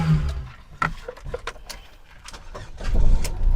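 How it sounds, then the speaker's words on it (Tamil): A used Ford Fiesta's engine runs at a car lot: a low, soft rumble under scattered clicks and knocks nearby, growing heavier and louder toward the end. "இது வண்டியோட இன்ஜின் பாருங்கள் எவ்வளோ ஸ்மூத்தாக இருக்குன்னு"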